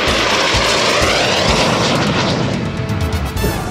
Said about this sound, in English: high-speed review, Mr. Paul Wood in the F-86 Sabre